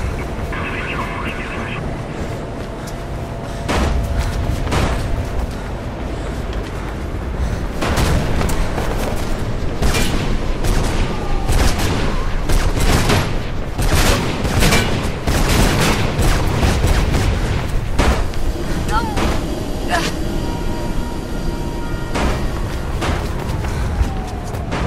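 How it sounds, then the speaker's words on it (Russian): Gunfire rings out in the video game Mirror's Edge, dense bursts of sharp shots and booms over a loud sustained rumble of action, with a voice speaking over the din. "Я слышу выстрелы, да и птички стали слишком любопытны."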